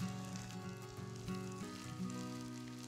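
Onions sizzle steadily in a pan as they fry toward golden caramelization, a soft continuous crackle with a faint musical tone running underneath.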